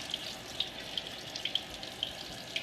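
Microgreens are rinsed under a running kitchen tap, a steady soft hiss of flowing water with light irregular splashes and drips, quiet and close, with no voices.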